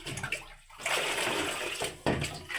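Water pouring and splashing into a household air cooler's tank, a steady broadband gush running most of the clip with a brief dip and a fresh splash near the end.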